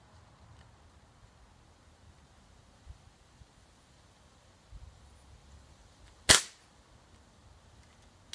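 A single sharp gunshot cracks once near the end, loud against a quiet outdoor background with faint rustling before it.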